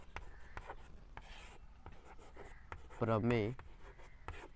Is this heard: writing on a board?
yes